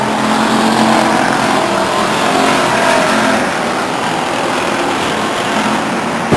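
Race cars at Stockton 99 Speedway, led by the number 97 car, roar continuously around the oval in a dense, steady wash of engine noise, loud and sustained without any voice over it.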